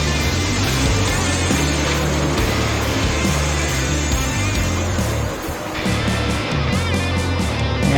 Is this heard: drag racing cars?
yes